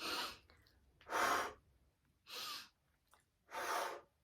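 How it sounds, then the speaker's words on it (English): Deep breaths taken in a kundalini pranayama exercise, four strong airy bursts spaced about a second apart, close and clear with no talking. "So we're going to breathe in."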